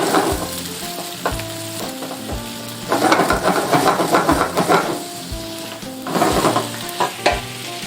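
Whole grain mustard, Sauvignon Blanc and cream sauce sizzles in a pan as it cooks down nearly dry, a close bubbling fry with rises in intensity and occasional stirring knocks, with no voices.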